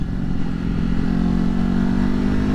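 A 2020 Ducati Hypermotard 950 SP being ridden, its engine droning loud and steady with a rising whine as it pulls hard, close and unbroken throughout.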